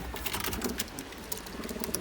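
A pigeon coos close by in soft, repeated throaty pulses over a busy, fluttering background, with no talk.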